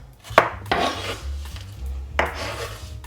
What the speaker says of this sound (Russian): Ароматный перец нарезаю такими очень тонкими полукольцами.